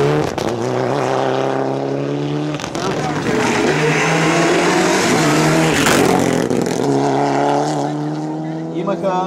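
A rally car of crew number 4, which had a spark plug problem, revs hard at the start of its run with a loud, rising and falling engine note and gear changes, close by, under an announcer's voice.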